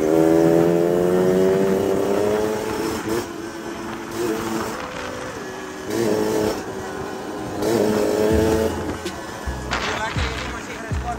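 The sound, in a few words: RC100 motorcycle with 34 mm carburetor revving while riding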